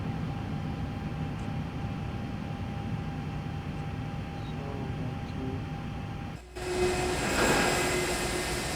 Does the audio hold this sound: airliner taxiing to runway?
yes